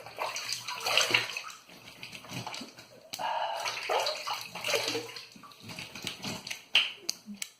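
Tap water runs and splashes close by as a face is rinsed after a wet shave, a steady rushing stream with uneven slosh and drip.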